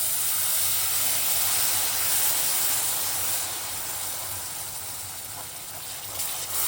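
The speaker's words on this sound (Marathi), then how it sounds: "आता मी हे दूध गरम करून घेतलं ना ते थोडं थोडं यामध्ये घालणार आहे" Hot milk poured a little at a time into golden roasted amaranth flour for a fasting sheera raises a steady, loud steamy hiss and sizzle that eases off slightly toward the end.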